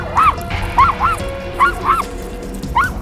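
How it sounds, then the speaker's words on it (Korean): A dog that barks aggressively at people lets out a series of sharp, loud barks in quick pairs, close by, with short pauses between bursts outdoors. "사람이 보이기만 해도 심하게 짖었는데요."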